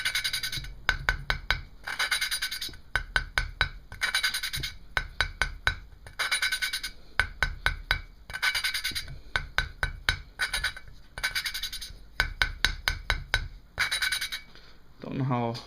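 An engine valve from a 1985 Kawasaki VN750 being lapped against its seat with grit: repeated bursts of rapid gritty rubbing and tapping, regular rhythmic strokes close by in a quiet workshop.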